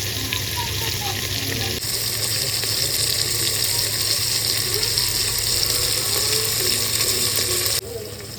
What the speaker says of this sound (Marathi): आता यात आपण गरम पाणी टाकू देऊ.